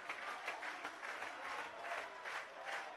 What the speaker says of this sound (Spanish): Se ganan los aplausos.